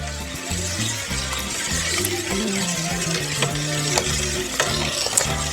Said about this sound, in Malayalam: പെർഫ്യൂം ചേർത്ത് നന്നായിട്ട് ഇളക്കാം